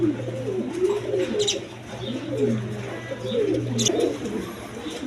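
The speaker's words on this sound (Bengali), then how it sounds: "দেখেন এটা হলো লুটনের মাদি আর ওইটা হলো বিউটি নর" Lotan and satin pigeons coo in repeated low, rolling phrases, close by and fairly loud, with a steady hum underneath and a few faint chirps above.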